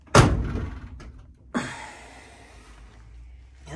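A car door on a Ford Escort RS Turbo, with its outer sill under repair, thuds shut with a sharp close knock, followed about a second and a half later by a second softer thump and faint rustle.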